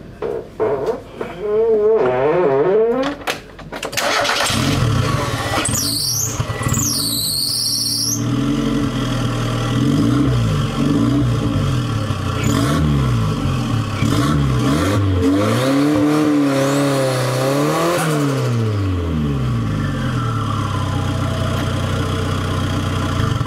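A turbocharged 1999 Ford Festiva engine is started and run, idling loudly up close, then revving up and down in several rising and falling sweeps with a whining, squealing edge.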